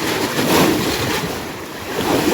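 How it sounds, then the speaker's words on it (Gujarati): Sea waves breaking on the shore near Diu, a loud, rolling roar of surf that swells and eases, close to the microphone with wind noise mixed in and no voices. "જો મિત્રો મોજા આવે છે અહીં છે જો જાડી"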